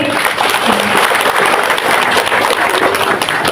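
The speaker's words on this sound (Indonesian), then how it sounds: "Dan tepuk tangan untuk Pak Bupati." Dense, steady applause from an audience at an official ceremony for a regency head on Bawean Island, East Java, Indonesia, filling the whole stretch loudly without a break.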